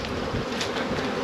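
Honeybees buzz steadily around an open beehive during a cold spring split, a dense, continuous hum of many insects close by with no talking.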